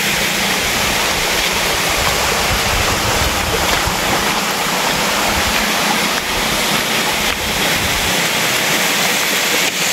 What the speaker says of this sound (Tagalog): Ayan, yan yun yung falls.